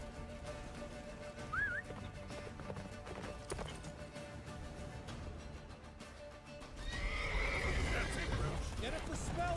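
Roach, a horse in The Witcher 3 video game, neighs and gallops with clip-clopping hooves, while voices talk over it and a louder rushing wind swells near the end.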